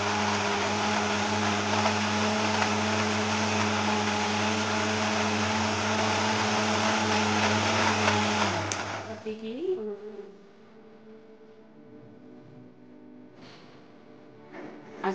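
A mixer grinder whirs loud and steady for about eight seconds as it blends milk with honey into a smoothie. The motor then cuts off and winds down, leaving faint handling sounds.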